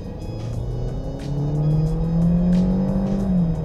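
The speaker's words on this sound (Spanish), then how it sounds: "Lo pongo en drive, verifico que esté en modo sport. Vamos a fondo" Kia Sportage engine revving hard under full-throttle acceleration in sport mode, a loud steady roar climbing in pitch as revs rise, close and continuous with no talking.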